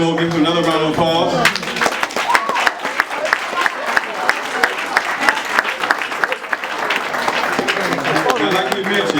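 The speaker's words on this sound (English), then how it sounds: "Give him another round of applause." An audience claps for a performer at a live event, a dense, steady wash of applause that swells after a brief musical opening and carries on for several seconds.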